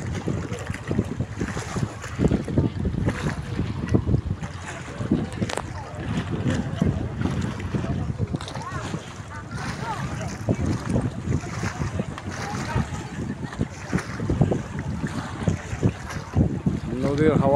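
A trawler boat travels on the Padma river in strong, cold early-evening wind, heard as a continuous rough rush of gusts buffeting the microphone over a low engine drone, with people talking throughout.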